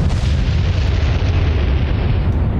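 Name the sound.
enemy ship exploding, video game Atlantic Fleet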